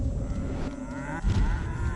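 Cows mooing as they are hurled in the Destroy All Humans video game, low bellowing moos over a game background, loud and close, with a fresh moo bursting in partway through.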